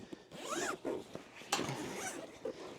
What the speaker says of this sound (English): If I can locate the zipper here.